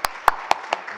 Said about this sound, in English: If we can just give a round of applause again, please, to Eve, Vic, Fanny and Patty.